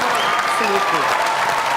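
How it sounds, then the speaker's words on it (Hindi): Studio audience applause on a comedy talk show, clapping that holds steady throughout while a voice speaks over it. "सना के लिए खड़े हो जाओ तालियां"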